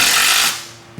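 Bolts being tightened on a hang block with a power tool, a short buzzing whir that cuts off after about half a second, followed by a faint tail and a small knock.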